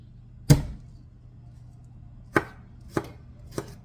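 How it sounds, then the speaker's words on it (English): A kitchen knife strikes a cutting board four separate times, one sharp chop followed after a pause by three quicker ones, each a loud, close thud that dies away quickly, while preparing chicken scarpariello. "They do a fast mince."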